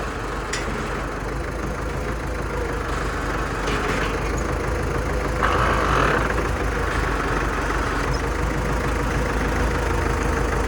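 A steady, low tractor engine idles continuously nearby, with a few faint clanks and a brief hiss partway through.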